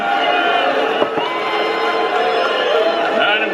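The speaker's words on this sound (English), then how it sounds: "Just look how loud Mitch McConnell was booed at the RNC." A large crowd at the RNC booing Mitch McConnell makes a dense, sustained roar of many voices that fills the hall, steady and loud throughout.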